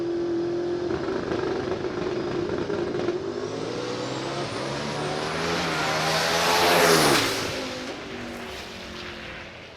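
Drag race car launching in a first-round elimination, engine roaring and rising in pitch as it pulls away, swelling to a peak before fading, with no talk.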